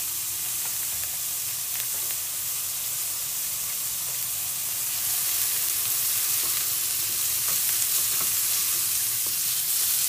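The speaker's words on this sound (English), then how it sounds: "When you hear that sizzle, you know that you're in a good place." Kimchi fried rice sizzles and crackles steadily in a hot pan, a loud continuous frying hiss with small pops throughout and no talking.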